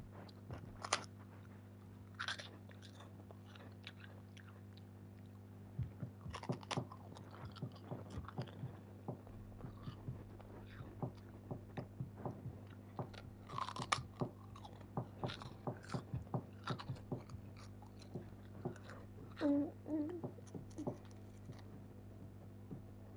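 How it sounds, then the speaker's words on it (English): Prawn crackers being crunched and chewed close to the microphone, a long series of sharp, irregular crisp crunches and bites over a quiet steady hum. "sorry if you see a crunching. I'm eating prawn crackers."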